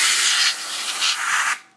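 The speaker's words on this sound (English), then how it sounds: "I'm now going to dust it all out with some real compressed air." Compressed air sprayed to dust out the inside of a Xerox 2230ij plotter: a loud, steady close-up hiss lasting about a second and a half, with brief dips, then cutting off.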